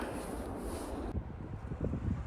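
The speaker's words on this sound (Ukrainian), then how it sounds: "І зараз вітер сильний, який робить високі перемети." Strong winter wind gusts buffet the microphone in rumbling, uneven bursts, loud and close, on a snowy hiking trail where the wind builds high snowdrifts.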